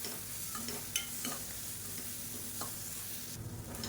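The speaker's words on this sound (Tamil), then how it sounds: "இப்போ நல்லா ஒரு 2 நிமிஷம் வதக்கி வச்சுக்கலாம்" Green chilli and pepper being stir-fried in a pan, a soft steady sizzle with occasional light stirring scrapes, quiet and close with no voices.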